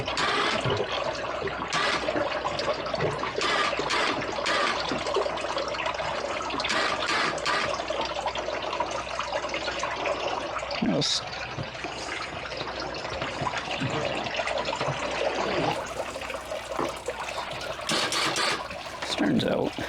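Water pumped from the bilge of a salvaged 27ft boat after Hurricane Milton gushes and splashes continuously, a noisy churning rush with occasional knocks.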